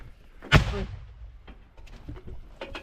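A hand grenade blast in combat lands as one sharp, loud boom with a broadband burst, then fades into scattered distant pops and crackles of gunfire.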